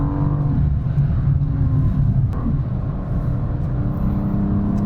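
A BMW M2 Coupe prototype drives at well over 220 km/h, its engine and road noise forming a steady, dense roar heard from inside the cabin, continuous and loud throughout.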